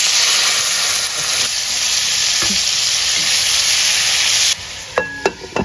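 Shrimp for pancit sautés in a pan, a loud, dense sizzle running steadily, then dropping away near the end into a few sharp clanks of a utensil against the pan.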